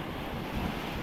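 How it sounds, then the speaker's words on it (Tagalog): Ocean surf washes and roars continuously close by, mixed with wind buffeting against the microphone, heard from a small boat on open water during fishing. "Laki ng alon."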